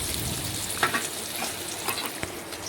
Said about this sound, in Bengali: এখন নাড়াচাড়া করে একটু সময় নিয়ে পেঁয়াজটা একটু ভেজে নিচ্ছি